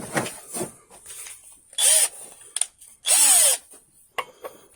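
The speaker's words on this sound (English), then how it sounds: "Get the electric drill." A handheld electric drill runs in two loud bursts of about a second each, fetched while rebuilding a generator that had sat unused for years, amid quieter clanks and handling noises of the workshop.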